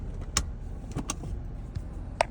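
A 2007 BMW 328i wagon with a manual clutch being driven, a quiet steady engine hum from inside the cabin with a few short clicks and knocks scattered over it.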